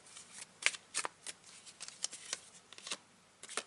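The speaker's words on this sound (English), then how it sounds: "I've shuffled the cards, in front of the camera" Tarot cards are shuffled close up in a quiet room, a run of quick papery riffles and soft slaps in an uneven rhythm with no talking.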